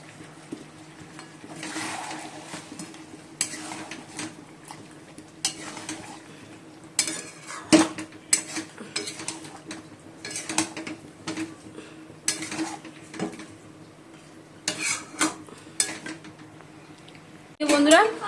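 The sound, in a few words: stirring chicken with curd in a pot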